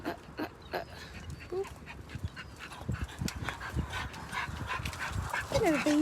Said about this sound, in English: How can you not say good morning to those beautiful puppies?